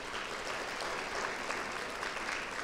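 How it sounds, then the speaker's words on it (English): Audience applause at a Women's Hall of Fame ceremony honoring Florida's first female Auditor General, a steady dense clapping that holds at an even level throughout, with no voices on top. "Let's give her a round of applause"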